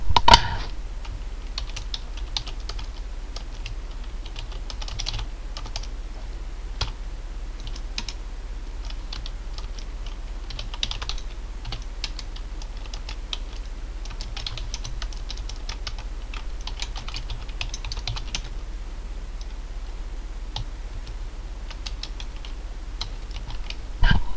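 Steady typing on a computer keyboard runs continuously for over twenty seconds. Soft, rapid key clicks come in uneven bursts, close and fairly quiet, over a low hum, with no voices.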